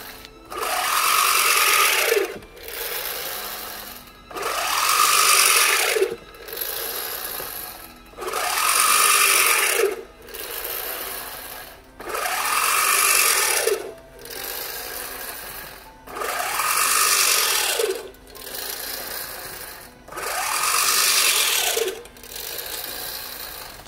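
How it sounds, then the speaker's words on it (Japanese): A Nice Birdie reel mower fitted with a metal pinion key is pushed and pulled through grass, giving a whirring, clattering blade sound in regular bursts about every three seconds. Short quiet gaps fall between strokes, and no one speaks. "まずは金属キーが入っているノーマルな状態のナイスバーディーモアで刈り込みます。"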